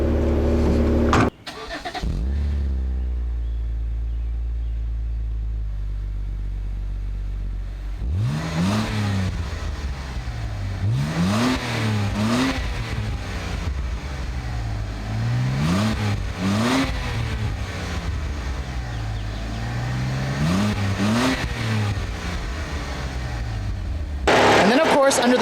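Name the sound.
straight-six car engine starting and revving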